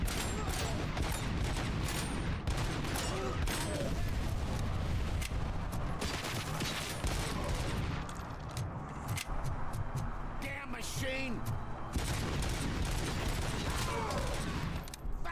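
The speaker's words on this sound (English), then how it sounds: "I'm getting sniped at too." Sniper fire and other gunfire in the video game Dune: Awakening, a dense run of rapid shots and bursts filling most of the stretch, with a voice speaking underneath in places.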